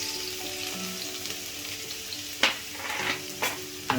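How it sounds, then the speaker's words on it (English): Chopped garlic sizzles in hot ghee for lamb chops, a soft steady frying hiss with a few sharper crackles and stirring clinks near the end, no voices. "The ghee is nice and hot. I'm going to add the chopped garlic"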